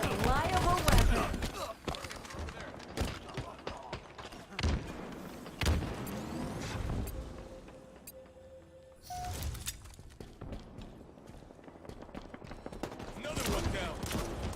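Rapid gunfire and bursts of shots ring out in a Halo-style multiplayer match against enemy Spartans, dense and loud, mixed with thuds and game effects, with a voice talking over parts of it.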